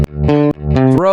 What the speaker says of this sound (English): Let's start with the bass line in the verse.